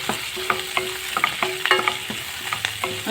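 Onion and tomato frying together in a pan, a soft steady sizzle under brisk repeated spatula scrapes and taps against the pan, close and fairly loud, with no talking.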